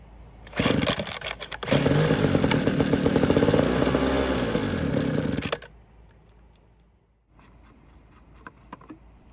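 A Homelite leaf blower's small two-stroke engine sputters to life and runs at a loud, raspy buzz for several seconds, then cuts out when off choke, leaving faint idle sputters.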